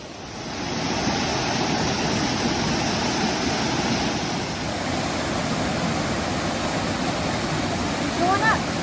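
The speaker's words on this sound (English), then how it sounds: "we're coming up on the waterfall." A waterfall swollen after storms roars as a steady, dense wash of water noise, loud and continuous, heard from fairly close on a trail without anyone speaking.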